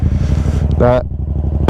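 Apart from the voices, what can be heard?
Yamaha MT-07 motorcycle starting up, Black Widow exhaust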